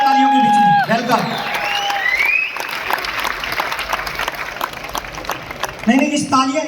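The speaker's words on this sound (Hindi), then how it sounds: "हमारे बीच में अविष्का छाबड़ा, जोरदार तालियों के बीच में वेलकम" An audience claps and cheers to welcome a dancer at a program event, a sustained wash of applause with a few whoops, following and then giving way to an announcer's amplified voice.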